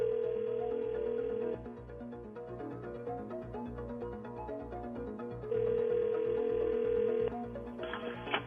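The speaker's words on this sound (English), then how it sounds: "We're calling up your husband." A telephone rings back while an outgoing call connects: two long, even ring tones separated by a quiet gap, then the start of a third, heard fairly softly with no talking.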